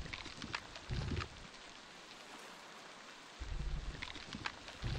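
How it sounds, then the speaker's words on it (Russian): Steady, soft rain hiss with a faint patter, continuous throughout and with no one speaking, during a storm in the video game Beasts of Bermuda. "переждем дождь."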